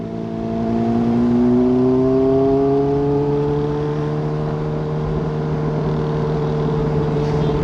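Road traffic heard from a moving motorcycle: a loud, steady engine drone with rising and falling tonal whine, as if revving and passing other vehicles, constant throughout with no talk.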